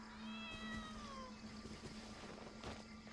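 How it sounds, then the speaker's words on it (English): A small cat meows in Genshin Impact, heard as a few soft, rising and falling mews over a quiet ambient game background with a low steady hum. "Oh, it's just a little cat."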